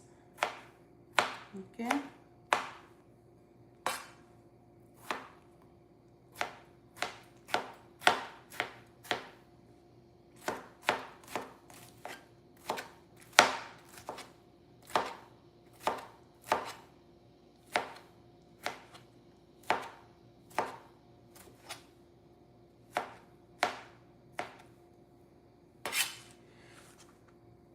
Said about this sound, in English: Done cutting 1 tomato.